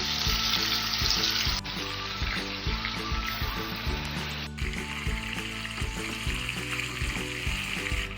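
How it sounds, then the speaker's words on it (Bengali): Chicken pieces frying in hot oil in a pan for a yogurt chicken dish, a loud, steady sizzle that runs throughout, with no talking. "গরম হয়ে গেলে তার মধ্যে একে একে করে ওই চিকেনগুলো হালকা হালকা করে ভেজে নেবেন"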